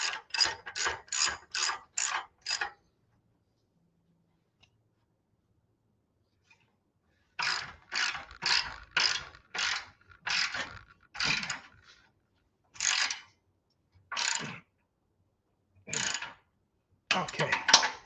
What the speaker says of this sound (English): Tighten up the other clamp.